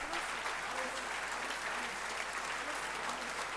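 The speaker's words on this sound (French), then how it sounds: "Vous pouvez les applaudir" Steady, even applause from an audience at a POI party assembly, continuous and moderately distant, with faint voices mixed in.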